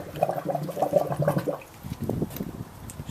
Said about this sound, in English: I'm getting the water coming through.